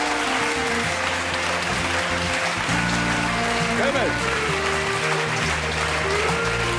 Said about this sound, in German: Mit einem warmen, schönen Applaus.